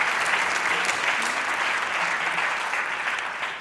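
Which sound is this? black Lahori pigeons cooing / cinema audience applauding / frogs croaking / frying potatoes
cinema audience applauding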